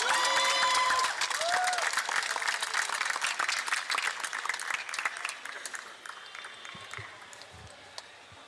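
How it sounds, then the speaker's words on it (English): Church band concert audience breaks into a big round of applause with some cheering and whistles early on, dense clapping that thins into scattered claps and fades over several seconds. "Please give them a big round of applause."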